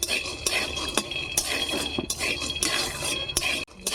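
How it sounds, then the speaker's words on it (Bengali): Peanuts are dry-roasted in a pan without oil, with a spatula scraping and stirring them in repeated sharp clinks and rattles, close and alone with no talk. "তাই শুকনো খোলায় বাদামটা ভেজে নেব।"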